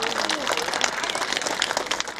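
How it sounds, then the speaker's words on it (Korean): A crowd applauds volunteers at a ginseng festival opening ceremony, with dense, steady clapping that holds at an even level throughout, with a faint voice briefly audible near the start. "우리 전체 다 큰 박수 한번 부탁드리겠습니다"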